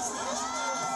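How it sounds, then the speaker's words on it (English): A crowd cheering and shouting inside the Levels Bar, a reopened nightclub in Kampala, Uganda: a dense, steady roar of many voices, loud and continuous for a brief moment. "crowds packed into the Levels Bar in Uganda's capital, Kampala"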